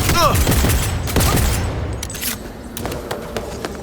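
Rapid gunfire in a Cyberpunk 2077 firefight, a loud continuous fusillade of overlapping shots that thins slightly toward the end, with shouted voices mixed in.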